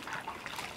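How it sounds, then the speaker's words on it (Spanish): Water trickling and splashing softly as dirty, greasy wool is washed by hand, a faint, close, continuous dribble with small irregular splashes. "Ahora voy a hacer el lavado de la lana"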